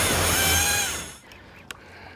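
A fishing reel's drag buzzes loudly as a hooked fish pulls line, a sustained whirring that fades after about a second, followed by a sharp click.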